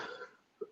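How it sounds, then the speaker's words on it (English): A short, faint cough from a person, with a brief raspy exhalation followed by a small sharp throat burst near the end. "Sorry about all the coughing."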